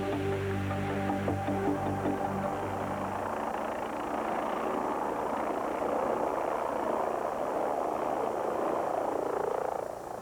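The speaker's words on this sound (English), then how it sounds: "how these helicopters take critically injured people on the ride of their lives" An Air Care medical helicopter in flight gives a steady, loud, continuous rotor and engine drone that holds without a break and lifts slightly in pitch near the end, with no voices.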